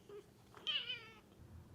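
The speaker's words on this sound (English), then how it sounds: "Say hi, Coco. She talks way too much" A pet cat gives a single clear, close meow with a rising then falling tone, quiet room around it and no talking.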